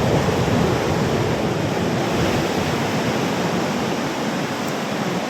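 Steady roar of ocean surf, broad and continuous, with waves rushing and washing without pause; no voices, and some wind noise on the microphone.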